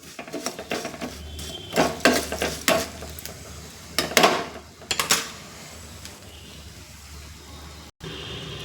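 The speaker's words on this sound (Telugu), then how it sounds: "ఆ బాండీలో మనం వేయించేసుకుందాం" Spices stirred and frying in a wok-style pan on the stove: a low sizzle under repeated scraping, clinking utensil strokes in bursts, then quieter sizzling alone.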